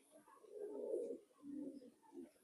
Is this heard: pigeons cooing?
yes